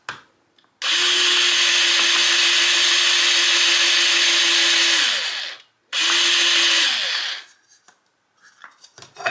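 A cordless power drill bores through wood into a mat during a Dollar Tree skeleton craft project, running in two loud, steady bursts with a brief pause between them and no talking.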